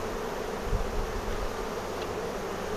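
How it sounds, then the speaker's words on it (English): Honey bees swarm around a beehive kept on a balcony, making a dense, steady buzzing hum that fills the space close by without a break. "So this hive's got a lot of bees now"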